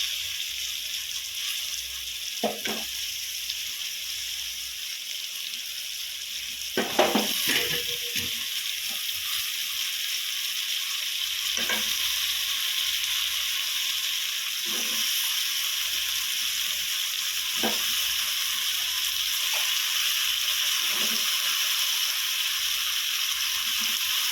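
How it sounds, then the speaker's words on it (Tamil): Moringa drumsticks sauté in hot oil for a Tamil poriyal, a steady close sizzle running throughout, broken by occasional sharp clicks and scrapes of stirring. "வதக்கிட்டு அலசி வச்ச முருங்கைக்காயை போட்டுக்குவோம்."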